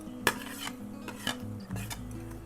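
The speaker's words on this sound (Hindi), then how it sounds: "आलू और मसाले को अच्छे तरीके से मिक्स करेंगे" A spoon scrapes and clatters in a pan while potatoes and spices are stirred together for puff-pastry satpura filling, several close knocks over a steady low hum.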